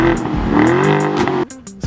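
A twin-turbo V8 car engine rated at 400 horsepower revs loudly and steadily, its tone climbing and holding before dropping off sharply near the end, with no one talking over it.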